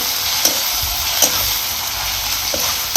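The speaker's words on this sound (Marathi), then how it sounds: "आता बारीक जाळावरती ना ही कांदा आणि टमाटा आपल्याला शिजवायचं" Onion and tomato sizzle and fry gently in a pan over a low flame, a steady close hiss broken by a few sharp scraping stirs of a spoon, with no talking.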